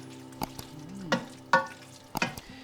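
A spoon stirs butterfly pasta with basil, zucchini and sun-dried tomatoes in a pan: a few separate scraping, clinking strokes over a low sizzle, close and fairly quiet.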